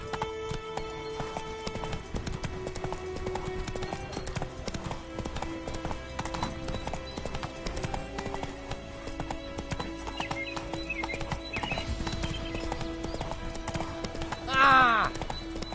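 Hoofbeats of a galloping horse in The Witcher 3 drum steadily under game music and ambience, a rider's voice heard briefly, with a short whinny near the end.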